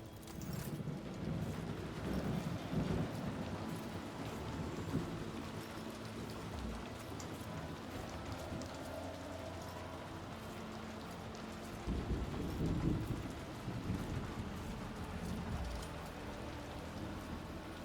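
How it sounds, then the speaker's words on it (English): Steady rain patters in the video game Warhammer 40k: Rogue Trader over a dense, continuous wash of noise, with a couple of louder surges; no distinct thunder stands out. "It's raining again. I hate it."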